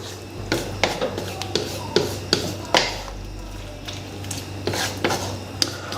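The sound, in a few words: stirring kaleji with crushed ginger in a pan on low flame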